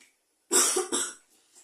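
Two sharp, close coughs in quick succession, followed by a brief quiet breath.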